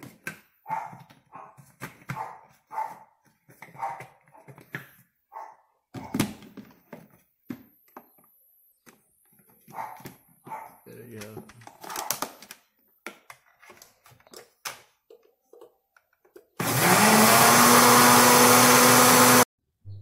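A blender whirs loudly for about three seconds as it mixes cake batter made with Tang drink powder. Scattered kitchen clatter and knocks come before it.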